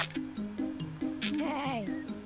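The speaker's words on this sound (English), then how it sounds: "That's a sheep." A sheep in a video game gives one wavering, quavering bleat in the middle, heard over a looping melodic game tune.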